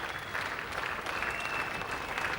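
Crowd at the 1985 Australia versus India Test in Adelaide applauding a batsman's 9,000th Test run, a dense, even wash of clapping sustained throughout.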